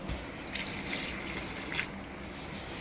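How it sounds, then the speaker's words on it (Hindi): Water is poured from a glass into a pressure cooker holding salted food, a soft continuous splashing trickle that stays close and steady throughout. "अभी मैं पानी इसलिए आपके सामने डाल रही हूँ ताकि आपको पता चल सके।"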